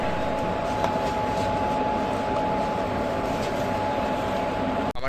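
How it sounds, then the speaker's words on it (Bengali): Kolkata railway station, with the Kolkata–Haldibari Express on the platform: a dense, steady wash of station ambience, a constant low rumble and a sustained tonal hum running throughout with no clear talk. "এটা হচ্ছে কলকাতা স্টেশন।"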